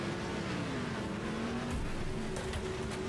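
A battered car in the Wreckfest racing game drives on after heavy crash damage, its engine droning steadily with wavering pitch and constant road rumble throughout, no voices over it.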